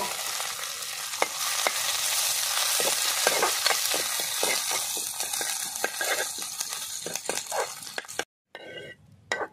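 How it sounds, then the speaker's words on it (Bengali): Neem leaves fry in hot oil in a wok, giving a steady, close sizzle broken by repeated stirring scrapes and clinks, with a brief drop to silence near the end. "এবার ধুয়ে রাখা আর ছাড়িয়ে রাখা এবার नीम পাতাগুলো পুরো ভেজে নেব"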